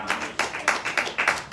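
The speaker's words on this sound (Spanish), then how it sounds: "Denle un aplauso a su rey." Rhythmic clapping at a church worship service, about six sharp, evenly spaced claps in a quick beat, fairly close and moderately loud.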